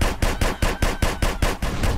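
Rapid automatic gunfire in GTA San Andreas rattles at a car in a steady, loud burst of about a dozen evenly spaced shots, with no talking.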